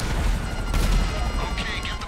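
Homing missiles and gunfire in the GTA V online video game: dense, loud, continuous blasts and rumbling explosions in busy game action, with faint whooshing streaks near the end.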